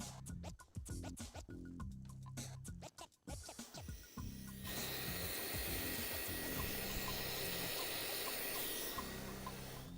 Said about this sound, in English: Let me hit this with a blow dryer a little bit.